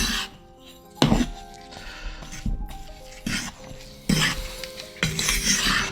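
A fork scrapes and clinks against a bowl while a mixture is stirred to break up clumps, with several louder knocks and a steady rasping scrape between them, close up and with no talking.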